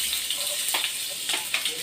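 Onion, green chilli and curry leaves dropped into hot oil for a chicken curry with cucumber, giving a steady close sizzle with a few brief bursts of louder crackle and stirring.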